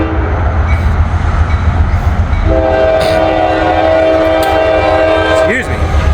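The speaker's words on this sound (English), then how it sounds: "got the steel coil train head down" A steel coil freight train rumbles past loudly and close, with a sustained horn blast joining the steady rolling noise partway through.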